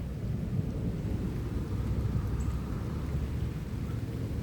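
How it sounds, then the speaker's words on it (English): A low, continuous rumble of thunder rolls on without a break, heavy and sustained, with the hiss of rain beneath it. "Hopefully y'all heard that thunder."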